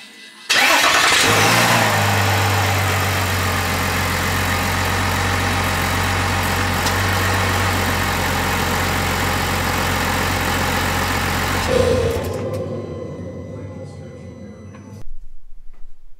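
The 3.0 Duramax diesel engine of a 2021 Chevrolet Silverado pickup, with its exhaust system removed, cranks and catches, then settles into a loud, steady low rumble that runs for several seconds before shutting off abruptly.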